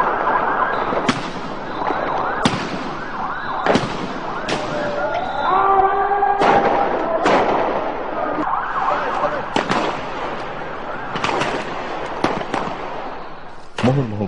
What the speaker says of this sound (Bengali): মুহুর্মুহু গুলি, সাউন্ড গ্রেনেড, জলকামান, টিয়ার শেল আর এলোপাথারি রাবার বুলেটে ছত্রভঙ্গ হয়ে যায় সমাবেশ